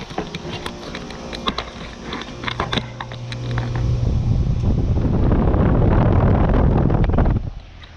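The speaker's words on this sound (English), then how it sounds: "Actually got the fan delay start up on camera." A residential heat pump's outdoor fan starts up after its delay, a loud rushing whoosh of air that builds over a few seconds close to the microphone, holds steady, then drops away.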